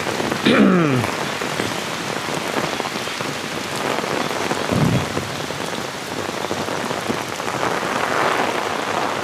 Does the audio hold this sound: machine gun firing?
no